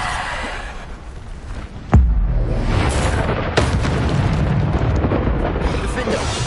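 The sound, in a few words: Bombarda spell explosion in a video game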